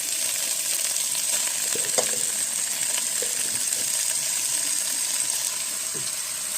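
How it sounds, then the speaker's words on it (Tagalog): Garlic and onion sauté in a pan for pork afritada, giving a steady close sizzle with a few light clinks and stirring scrapes, no talk. "Medyo nag-brown na po yung ating bawang at sibuyas."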